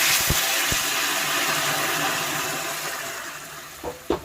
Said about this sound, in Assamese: পূৰা উঠলা গৰম পানী দিম ইয়াতে